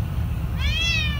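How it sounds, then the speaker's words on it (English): A cat gives a single short, rising meow, loud and close over a low indoor background hum. "Quite a loud kitty today, huh?"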